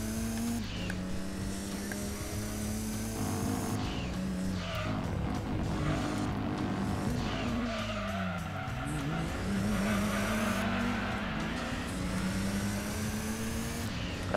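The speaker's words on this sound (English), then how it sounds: "Gotta love exiting corners and a big old power slide." Game engine roar of a race car in Gran Turismo 2 with screeching tires as it power slides out of corners, a steady loud drone with rising and falling pitch sweeps.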